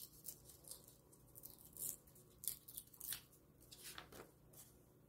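A paper craft stencil is torn by hand along its edge, giving a few short, quiet ripping bursts close by with no talking.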